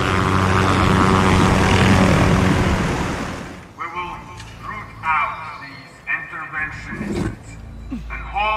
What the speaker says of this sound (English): Barkov is sending in helicopters.